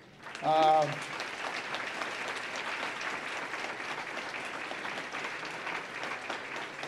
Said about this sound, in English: I think every one of these young people deserve a round of applause.